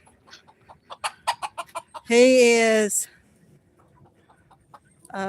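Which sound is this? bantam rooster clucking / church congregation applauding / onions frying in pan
bantam rooster clucking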